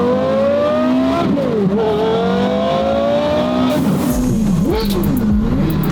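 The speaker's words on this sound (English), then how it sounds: "That screaming V10. This is the Carrera GT in all its glory." A Porsche Carrera GT's V10 engine screams loudly as it revs, rising and falling in pitch several times, sharp and close.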